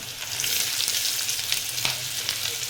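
Chopped onion with a bay leaf frying in hot oil over a low flame for chole bhaji, giving a close, loud, continuous sizzle with a few soft stirring sounds and no voices.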